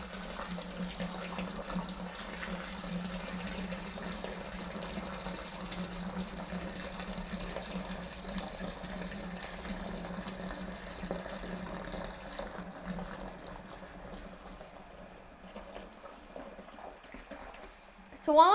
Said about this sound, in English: And then turn my pump back on.